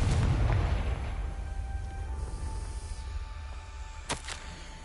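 A Confringo spell in Hogwarts Legacy erupts as a loud booming blast right at the start, its rumble decaying into a low lingering roar, with a couple of sharp small pops near the end.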